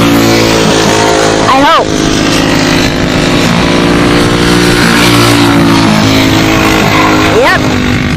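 A Peugeot 206 Cup race car roars loudly past on a circuit, its engine note rising and falling in a Doppler sweep over continuous track noise, with a commentator talking over it.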